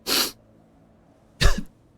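Two sharp, explosive human sneezes, the first a short airy burst and the second a heavier, deeper one about a second later, close and loud against a quiet background.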